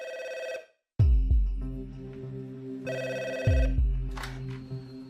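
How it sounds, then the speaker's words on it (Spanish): An old landline telephone without caller ID rings loudly twice, each ring a short bright bell burst, with low thuds and room noise between the rings and no voices. "El teléfono sonó y yo contesté."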